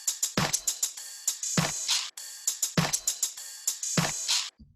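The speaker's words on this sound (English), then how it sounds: "I found this loop from my sample pack that I put out like 4 years ago" A percussion loop from a producer's sample pack for a trap-style beat: crisp, bright hits and shaker-like ticks in a quick repeating pattern with deeper thumps on the accents, dry and upfront.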